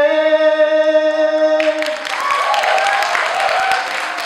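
A congregation breaks into applause after a worship song in a church service. The song's held closing notes ring out and stop, then loud, steady clapping swells and carries on to the end.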